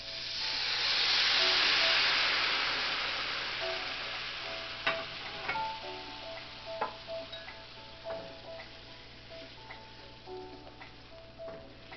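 Beef broth poured into a hot pan of leftover pot roast, a rising hiss and sizzle that swells and fades, followed by scattered bubbling pops and crackles.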